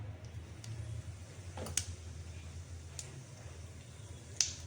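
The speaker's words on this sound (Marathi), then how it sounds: "तेलात आपण मोहरी टाकून घ्यायची" Mustard seeds crackle in hot oil in a home kitchen pan as a chutney is made: a few sharp, isolated pops scattered over quiet background hiss.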